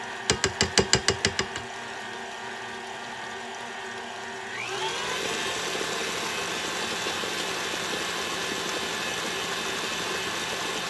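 An electric mixer whirs steadily as it blends French silk pie filling, a continuous motor hum that starts up after a few quick clicks and runs evenly to the end.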